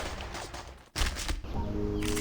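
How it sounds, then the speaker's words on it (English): Bursts of gunfire in the Reverse 1999 video game crackle in dense volleys, broken by a brief pause, then resume loud and close. "It was then gunfire erupted from both the front and the rear of our formation."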